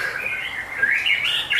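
A red-capped white-rumped shama (murai batu) calls with bright, sweeping whistled notes that rise and shift in pitch, close and clear against a quiet background.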